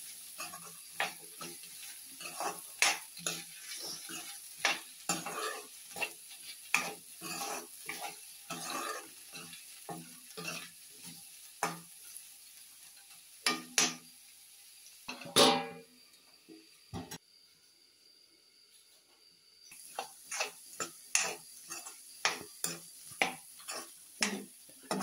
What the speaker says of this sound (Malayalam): നന്നായിട്ട് ഇളക്കി വേവിച്ച് കൊടുക്കാം.